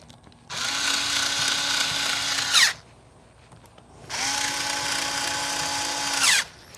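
A power drill drives the last two screws into a Vina orchid planter basket in two steady bursts of about two seconds each, separated by a short pause, loud and close with no talk.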